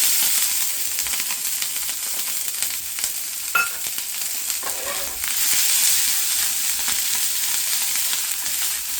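Capsicum with green chilies and curry leaves frying in a pan, a loud continuous close sizzle with occasional stirring scrapes and clinks.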